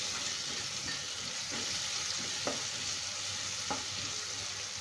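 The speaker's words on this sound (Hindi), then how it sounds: "और अब लाल मिर्च डाल देते हैं, गरम मसाला भी डाल देते हैं, मिक्स कर लेते हैं इन सबको।" Red chili powder and garam masala being stirred into a hot pan for dhaba-style urad dal tadka: a steady close sizzle with a few soft spoon scrapes against the pan, no voices.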